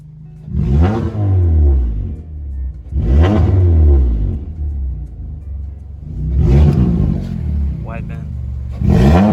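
A 1979 Camaro Z28 with a swapped LSX V8 revs hard in repeated bursts, each climb ending with a fluttering turbo sound, close and loud with people talking in between.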